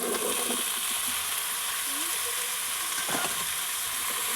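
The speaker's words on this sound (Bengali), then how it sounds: "সব মশলা দিয়ে এখন আমি এটা কষাবো" Taro and fish fried with spices in a pan hiss loudly and continuously up close, with occasional stirring clatter and a brief scrape partway through.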